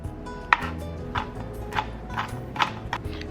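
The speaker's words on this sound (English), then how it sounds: "Give your parsley a rough chop." A knife roughly chops parsley for gumbo, giving a handful of close, crisp chops spaced about half a second apart over a quiet background.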